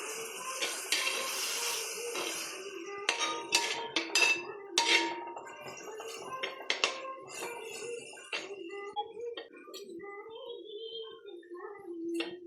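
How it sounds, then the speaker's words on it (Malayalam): Ground green chili paste poured into a pan for chicken biryani, with sharp clinks and scrapes of a spoon and metal cookware in close, irregular bursts, some ringing tones between quieter pauses. "നമുക്ക് പച്ചമുളക് അരച്ചത് ഒഴിച്ചു കൊടുക്കാം"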